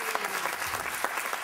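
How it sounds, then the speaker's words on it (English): An audience applauds a costumed pirate crew at a live show, dense continuous clapping from a large crowd with scattered sharper claps standing out, steady and full throughout. "Give them a round of applause."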